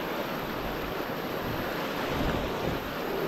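River water flows at a village crossing, a broad steady rush with some wind noise, close and continuous with no talk.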